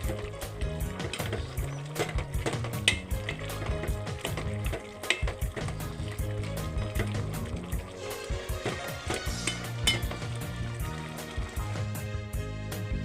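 Mutton and cauliflower gravy fries and is stirred in a pan, a steady close sizzle broken by repeated scraping and clattering strokes of the spoon all the way through.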